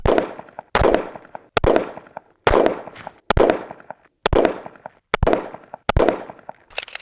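Gunshots from a handgun or rifle on an outdoor shooting range, eight sharp loud reports spaced roughly a second apart, each with a short decaying echo, no talking between shots.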